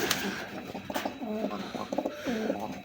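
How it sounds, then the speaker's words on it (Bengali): Tiger-coloured Rasgolla pigeons kept as a pair coo at close range, repeating soft throaty rolling calls in a steady rhythm, with no voices present. "বন্ধুরা এখানে আরেক জোড়া কবুতর আছে দেখেন"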